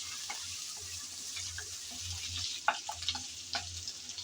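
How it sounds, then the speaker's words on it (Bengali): Ginger, garlic and onion paste frying in oil for prawn dopiaza, a soft continuous sizzle with a few light spatula scrapes and taps toward the end. "আদা রসুন পেঁয়াজ বাটা দেওয়ার পর নেড়ে চেড়ে ভেজে নিয়েছি"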